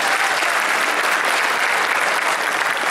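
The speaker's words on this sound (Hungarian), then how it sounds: "Egy nagy tapsot kérek neki!" A large crowd at an anime Christmas stage event applauds steadily and densely for a guest called to the stage, the clapping even and unbroken throughout.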